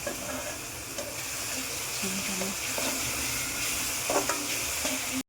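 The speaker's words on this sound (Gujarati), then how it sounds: "વઘારે કરી દીધો છે મેં તેલ ગરમ કરીને. હવે ડુંગળી અને ટામેટાં પણ નાખી દીધા છે મેં." Onion and tomato frying in hot oil tempered with cinnamon, a continuous soft hiss and sizzle with occasional stirring scrapes, moderately quiet and steady, ending abruptly.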